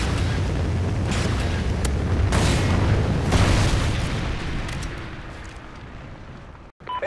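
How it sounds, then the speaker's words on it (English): A Trinity rocket strike in Call of Duty: Ghosts on the Tremor map erupts as a loud, sustained booming explosion with rumbling debris and several sharp bursts, fading over seconds before a brief cutoff. "Friendly Trinity rocket inbound."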